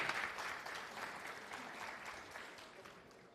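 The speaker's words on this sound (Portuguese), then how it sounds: "Palmas para ele." Students in a calculus class applauding a classmate, a faint, steady round of clapping that slowly fades over a few seconds.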